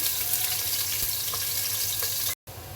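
Onions frying in hot ghee in a pan, a steady close-up hiss and sizzle that runs without a break and cuts out briefly near the end.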